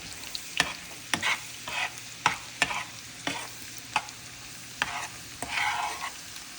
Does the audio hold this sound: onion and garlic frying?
yes